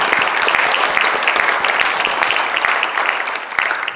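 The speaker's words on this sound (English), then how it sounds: "Let's give a round of applause" Following a talk at a museum event, an audience breaks into loud, steady applause, many hands clapping densely with a few sharper claps popping out, tapering slightly at the end.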